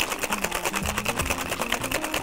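A cocktail shaker filled with ice and coconut cream is shaken hard and fast, a rapid, even rattling rhythm that carries on steadily throughout.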